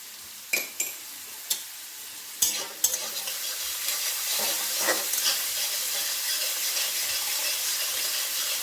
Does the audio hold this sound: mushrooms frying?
yes